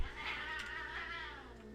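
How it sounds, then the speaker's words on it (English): Cats yowl and caterwaul in loud, drawn-out wails that run continuously across the whole stretch, with no talk over them. "the cats are yelling"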